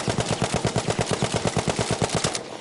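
Machine gun fire in Battlefield V: a loud, sustained automatic burst of rapid, evenly spaced shots, roughly fifteen rounds in quick rhythm, with no talking.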